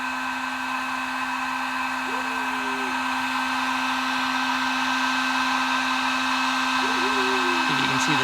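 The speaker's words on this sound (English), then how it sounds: "heat gun, the solder melts and ties the wires together, along with the heat shrink works to hold it together too" Heat gun melting solder on trailer brake wire connections under heat shrink, a steady blowing whir with a constant hum and faint brief voice-like sounds in the background.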